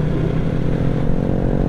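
A 250cc motorcycle engine idles steadily while warming up, a loud, close, continuous low rumble with a fine rapid pulse and no talk.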